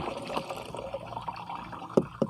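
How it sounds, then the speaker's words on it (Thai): Fermented liquor-recipe solution is poured into water for treating rubber trees with cracked bark, a close, steady splashing pour with a few louder sloshes near the end. "ทีนี้เราก็ผสมเทน้ำหมักเลยครับ"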